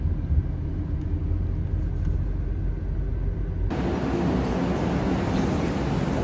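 A car driving on the road back to Warsaw in Poland gives a steady low engine and road rumble from inside, continuous and fairly loud, its tone shifting abruptly partway through, with no talking.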